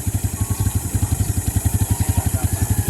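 Motorcycle engine idling after a tune-up, a steady, even low putter of regular exhaust pulses heard up close with no talk.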